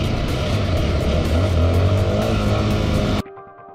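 A motorcycle roars past loudly during a police chase, its engine a dense, continuous drone that cuts off abruptly near the end, leaving faint residual tones.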